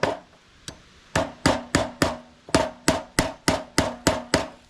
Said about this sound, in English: Let the hammer do the work for you.